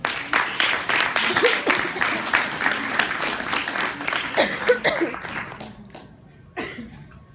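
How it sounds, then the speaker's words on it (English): A live audience claps through a round of applause at a hypnotist show during a senior class banquet, dense and steady for several seconds, then thinning out with a few scattered claps and a short burst near the end. "Nice round of applause."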